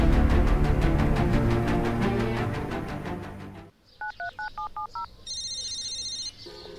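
Seven short touch-tone dialing beeps on a telephone, evenly spaced and fairly loud, follow a stretch of background music, then a steady electronic ringback tone sounds before the call connects.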